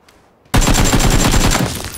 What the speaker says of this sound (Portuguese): Surpresinha é foda, me atiraram de algum lugar.